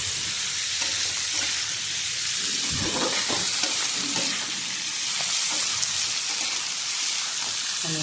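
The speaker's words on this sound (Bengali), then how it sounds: "পনির দিয়ে কষানো হয়ে গেছে" Paneer and potatoes are stir-fried with spices in a pan, a loud, unbroken sizzle running throughout, with a burst of scraping and stirring near the middle and no one speaking.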